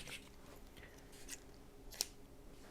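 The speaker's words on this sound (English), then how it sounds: "I'm going to go ahead and cut the yarn." A few quiet scissor snips cut through crochet yarn, the loudest near the end and the rest faint against a soft room background.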